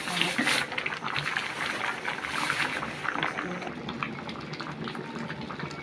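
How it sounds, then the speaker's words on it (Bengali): Papaya and masoor lentils boil in a pot, giving a steady, close bubbling and simmering hiss that runs unbroken throughout at a constant level. "একটু একটু সিদ্ধ হয়ে উঠছে, আর কিছুক্ষণের মধ্যে সিদ্ধ হয়ে যাবে।"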